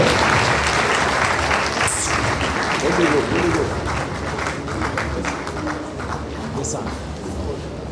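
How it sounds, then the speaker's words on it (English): An audience at a pharmacy induction and oath-taking ceremony applauds the Vice Chancellor with sustained, fairly loud clapping, with scattered voices and cheers mixed into the crowd noise throughout. "Please, with a resounding applause, appreciate our distinguished Vice Chancellor"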